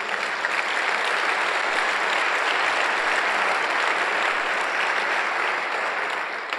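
A church congregation at a pastors' gathering at El Shaddai bursts into steady, dense applause, many hands clapping together loudly and evenly for several seconds with only a few voices mixed in.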